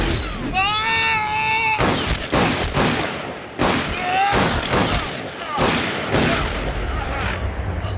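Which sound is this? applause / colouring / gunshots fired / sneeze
gunshots fired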